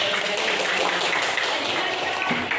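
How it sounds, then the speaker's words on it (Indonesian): An audience claps in a classroom group presentation, with steady, dense, moderately loud applause filling the whole moment. "Silakan beri aplaus lagi sekali lagi."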